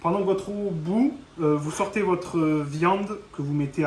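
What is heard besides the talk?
No everyday noise stands out behind the speech.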